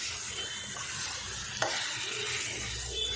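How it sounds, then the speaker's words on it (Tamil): Masala-coated chicken stir-frying in a pan over high flame, a continuous close sizzle with a spoon stirring and scraping through it, no voices. "சிக்கனை நல்லா மசாலாவோட மிக்ஸ் பண்ணி விட்டுருவோம் மிக்ஸ் பண்ணி விட்டுட்டு இதை வதக்கிடலாம்"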